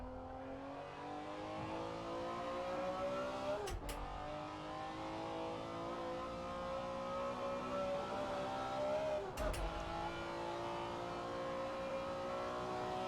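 A BMW M1 Procar's 1980s race engine drones steadily in a racing game, its pitch climbing under acceleration and then dropping sharply at two quick gear shifts, loud and continuous throughout.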